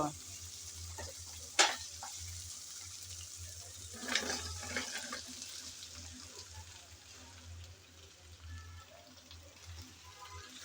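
Ridge gourd pieces fry in hot oil and are stirred, a soft steady sizzle with a couple of sharp scraping clinks of the spatula and a busier stretch of stirring, fairly quiet throughout.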